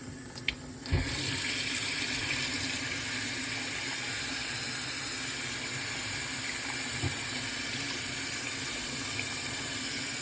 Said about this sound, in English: Maybe I ran cold water on the carboy.